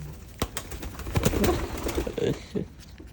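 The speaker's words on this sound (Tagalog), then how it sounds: "Grabe mga kalapatids." Pigeons cooing during free-flight training, soft low coos and fluttering amid outdoor background noise, fairly faint and close.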